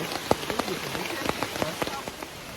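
Rain falls steadily on a mountain hike, a dense hiss with scattered louder drops pattering on a nearby surface, heard up close without clear talk.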